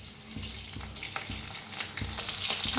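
Crushed green chillies hit hot oil in a heated wok, giving a close crackling sizzle with sharp pops and spits that grows slightly busier and louder as it goes on.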